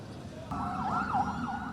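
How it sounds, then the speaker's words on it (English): An ambulance siren wails in at a Gaza border crossing into Egypt, its rising and falling tone starting abruptly and sweeping up and down at moderate distance. "Within an hour, these ambulances were rushing through."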